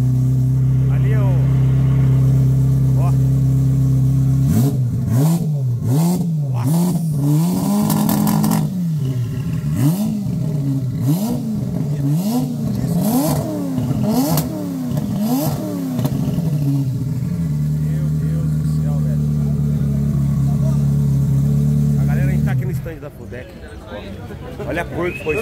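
Turbocharged Ferrari sports car sitting very low, engine revving hard in a series of sharp blips over a steady idle, close and loud, with people talking over it.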